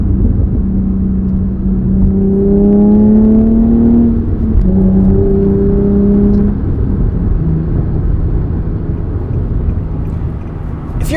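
A steady, loud engine drone from inside a moving Infiniti G37 sedan with a Stillen cat-back exhaust, with a smooth rising tone as the engine revs, then settling into a low cruising rumble.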